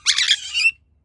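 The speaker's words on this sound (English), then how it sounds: "You're such a smart bird." A conure parrot gives a close, shrill squawk in two quick connected pulses, loud and alone in a quiet room.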